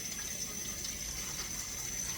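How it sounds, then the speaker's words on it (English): Cold water runs from a tap into a container in a home kitchen, a soft, steady stream with a quiet, even trickle throughout. "I'm going to put some water in this. I'm using cold water."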